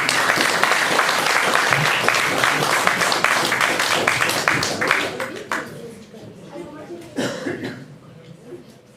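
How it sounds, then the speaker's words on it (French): An audience at a theatre show applauds loudly for several seconds. The clapping then thins out into scattered claps, coughs and murmurs. "On peut les applaudir."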